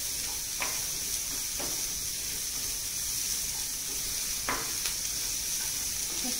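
Onion fries in a pan over high flame, a steady quiet sizzle with a few faint clicks of stirring and no voices.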